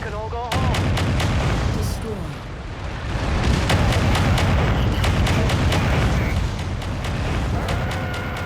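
Mech weapons unloading at full fire in MechWarrior 5 Mercenaries, a loud sustained barrage of booming cannon blasts and rapid repeated shots rolling on for several seconds, with a voice talking over it.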